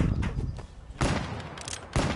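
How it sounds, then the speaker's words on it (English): Gunfire in a shooting video game: bursts of shots rattle out at the start, then two louder, sharper volleys land about a second apart, with a dense crackle of rapid fire in between. "I just shot all my specialist bullets out"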